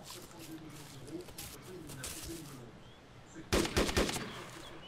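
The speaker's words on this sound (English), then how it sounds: "someone's shooting at us!" Gunfire in the video game DayZ: a burst of several sharp shots arrives late in the clip, loud against a steady outdoor ambience with birdlike cooing and faint voices underneath.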